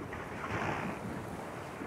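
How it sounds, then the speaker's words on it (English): An E Scow racing sailboat pushes through choppy waves in steady wind during a regatta, giving a soft, even rush of water and wind noise across a brief moment with no talk. "Peter Holmberg uses his body weight to work the boat through the waves"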